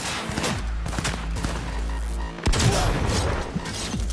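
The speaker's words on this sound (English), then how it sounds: "Oh, I love the shotgun, man." Shotgun blasts in Cyberpunk amid a busy firefight, with a heavy boom at the midpoint standing out above steady loud combat noise and scattered sharper shots.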